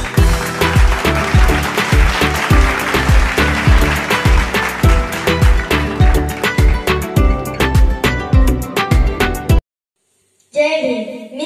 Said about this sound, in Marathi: एकदा जोरदार टाळ्या वाजवून या स्वराचं आपण हार्दिक स्वागत करूया.